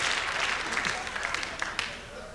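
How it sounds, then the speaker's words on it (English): A short burst of audience clapping, dense and fairly loud throughout. "Thank you very much for applauding on that."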